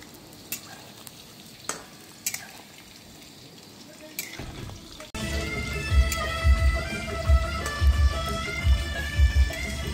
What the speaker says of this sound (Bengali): আর এখানে আমাদের এখন চিকেন পকোড়াটা ভাজা হচ্ছে